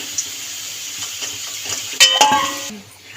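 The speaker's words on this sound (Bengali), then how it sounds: "একটু হলুদ দিয়ে লাল লাল করে ভেজে নেব আলু" Potatoes with turmeric fry in hot oil, a dense, steady sizzle close by, punctuated by metallic clanks of a utensil against the pan before the frying noise drops away at the end; no talking.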